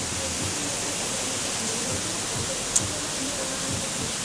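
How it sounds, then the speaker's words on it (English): Heavy rain pours down steadily outside an apartment where water is flooding the garage, a dense, even hiss holding at constant loudness throughout with no talk. "Well, it is pouring"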